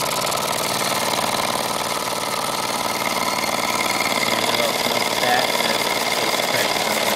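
A 70-year-old stationary steam engine runs in a steady, even chugging drone, loud and close throughout without pause.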